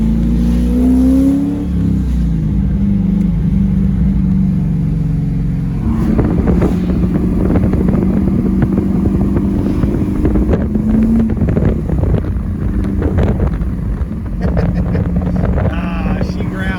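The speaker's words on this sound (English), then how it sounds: "It's a deeper exhaust than a Corsa, which is a higher pitched exhaust." A C5 Corvette's deep, rumbling exhaust drones continuously, with wind buffeting the microphone and the revs rising and falling as the car drives.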